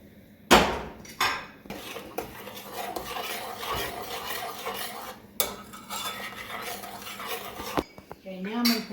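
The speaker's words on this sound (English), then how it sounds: "I'm going to stir it" A spoon stirs banana pudding mixture in a bowl after microwaving, giving steady close scraping and rubbing with repeated metallic clinks against the bowl's sides, loud and continuous.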